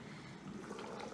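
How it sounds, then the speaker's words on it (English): Chicken curry for Indian butter chicken boiling in a pot, a soft steady bubbling and simmering close by, faint and continuous with no talk. "Boiling. Bubbling."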